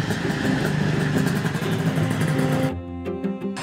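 A three-wheeled Tosa motorcycle engine warms up, running with a steady mid-pitched idle rumble close by, then settling into a quieter, more even tone near the end.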